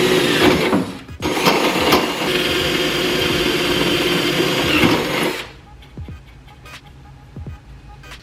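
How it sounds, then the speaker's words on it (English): A power drill runs steadily for several seconds, drilling into a hood strut bracket on a 2020 Toyota Tacoma, then cuts off, leaving scattered light mechanical clicks and taps from riveting. "we're gonna be drilling from the top side and riveting this way versus that way"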